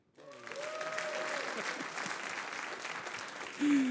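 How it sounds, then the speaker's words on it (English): Audience at a lightning-talk session of a browser engineering conference breaks into steady applause that builds quickly and holds for several seconds, with a louder burst near the end. "this is where you should clap now"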